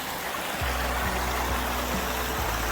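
Runoff from the mountain flows under a small bridge in a Philippine village, a loud continuous broadband rush of water with a low steady hum running beneath it.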